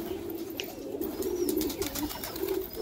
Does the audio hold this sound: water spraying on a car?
no